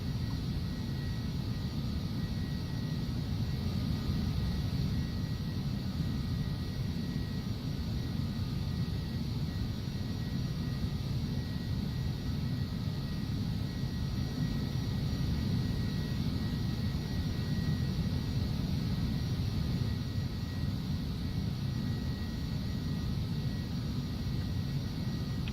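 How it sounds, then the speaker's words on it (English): An Embraer Phenom 300 business jet descends with its engines throttled back, a steady, loud broadband cabin roar with a constant low rumble and faint whine that holds unchanged throughout. "Turn down some of the engine a little bit, slowly descend here."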